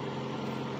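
1985 Cadillac Cimarron engine idling after months of sitting, coming down off high idle; a steady low rumble at even level for under a second, close by, with no talking.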